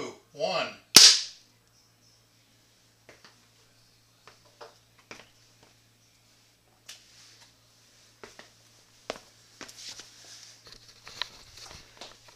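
A black powder T charge goes off inside a vacuum chamber in a house, a single sharp, fairly muted bang right after a brief voice, followed by a long quiet stretch of scattered small clicks and taps.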